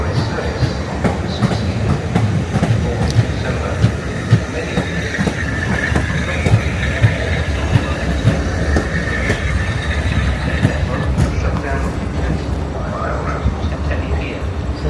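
A Class 455 electric train at London Waterloo station rolls past with rhythmic clickety-clack of wheels over rail joints and a low rumble, steady and close throughout, with faint voices in the background.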